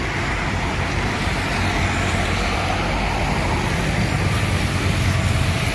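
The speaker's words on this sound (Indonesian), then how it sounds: "bus Sempati Star Jetbus 3 nya Medan Jakarta." A Sempati Star Jetbus 3 coach on the Medan–Jakarta route pulling in, a loud continuous diesel engine and road rumble that stays close and steady throughout.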